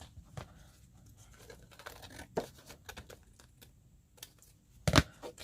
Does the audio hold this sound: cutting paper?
yes